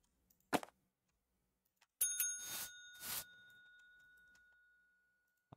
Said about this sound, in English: Can we get rid of that bell ringing?